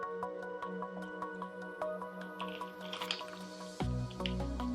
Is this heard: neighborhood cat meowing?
no